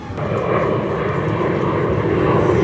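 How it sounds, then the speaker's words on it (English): Fixed-wing airplane passing overhead, a loud steady engine roar that fills the whole stretch without fading, no voices over it. "These goddamn planes, man."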